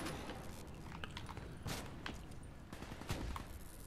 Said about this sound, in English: sniper kills him in one shot